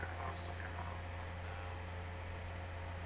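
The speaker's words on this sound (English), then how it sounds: "My laptop's making a whole bunch of noise. It's hard to hear the movie. It's just the CD moving" Steady low hum and faint whirring noise from a laptop's CD drive spinning a disc during movie playback, constant and quiet throughout with no speech.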